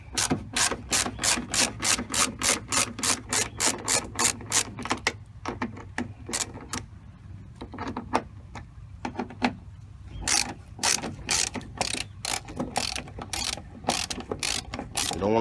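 A ratchet wrench clicks in quick rapid bursts while loosening bolts on a 2007-2013 GM truck door lock actuator, with a pause of slower, fainter turning in the middle before the fast ratcheting resumes, close and crisp.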